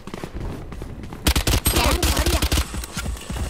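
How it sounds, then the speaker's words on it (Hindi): Rapid automatic gunfire in the tactical shooter Valorant, a quiet lead-in giving way to a dense burst of loud sharp shots with short pauses, continuing through to the end. "हवा में गोली चलाने का फायदा भाई"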